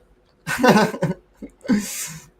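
A person sneezes loudly nearby, followed by a couple of short breathy sounds and another burst.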